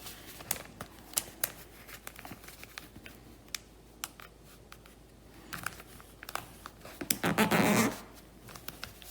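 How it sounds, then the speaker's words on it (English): Sheet of origami paper being folded and creased close up, a series of soft crisp crinkles and sharp taps spaced irregularly, building to a longer rustling crunch near the end, no voices. "we're gonna fold this to the crease we just made right here"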